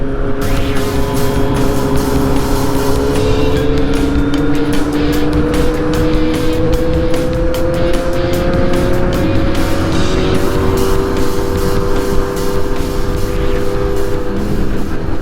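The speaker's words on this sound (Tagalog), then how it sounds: "Ang lakas ng exhaust ni ano, Brother Jonathan." A 2025 Kawasaki Z900SE motorcycle with a loud exhaust drones steadily while riding, its engine note climbing and shifting in pitch for the whole stretch, with no talking over it.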